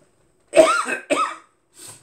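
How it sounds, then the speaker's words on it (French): Two harsh coughs in quick succession, close and loud, followed by a softer third cough after a short pause, from a person with a bad cough from a cold. "J'ai une toux qui est pas possible"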